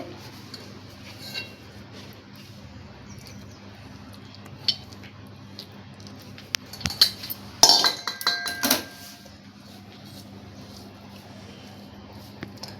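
Ghee being stirred into a sesame laddu mixture in a metal pan, with soft scraping and a cluster of sharp clinks of a utensil against the pan midway, between quieter stretches of faint room noise.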